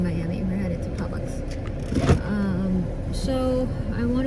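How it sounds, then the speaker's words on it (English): A car driving through rain in Miami, with a steady road and engine rumble inside the cabin and a brief louder swell midway, under a person talking. "So we are in the car, and it is a rainy day here in Miami."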